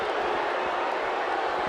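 A dense, steady crowd murmur fills a WWE 2K16 wrestling arena before a tag-team elimination tornado match, a broad even roar with no single voices standing out.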